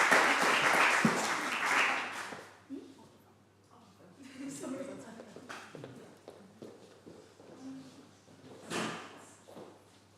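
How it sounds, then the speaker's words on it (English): An audience at a live poetry reading applauds loudly for about three seconds, then the clapping fades into quieter room noise with scattered shuffles and a few faint knocks. "Please give a round of applause for Cleo."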